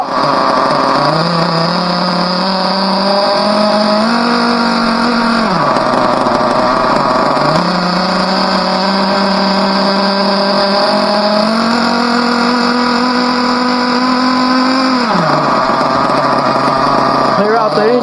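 Team Associated RB nitro RC car engine running during break-in, a loud steady high-pitched buzz that rises and falls in long sustained revs, close and continuous with no talking.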